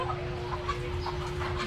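Chickens on a farm in Banga, South Cotabato, cluck repeatedly at moderate distance over a constant low electrical hum, with no talking.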